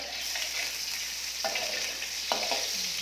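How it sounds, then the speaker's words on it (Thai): Pork belly stir-frying in a pan, a continuous bright sizzle with a few sharp scrapes of the spatula, close and even in level. "เอาใส่หมูสามชั้นไปคั่วก่อนนะคะ ให้เขาแข็งนิดนึง"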